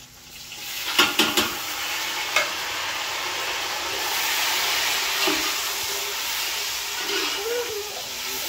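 Masala spices frying in a pan on a village kitchen stove, a continuous loud sizzle and hiss with a few sharp scraping clicks of a stirring spoon early on and occasional soft spatters, no talking.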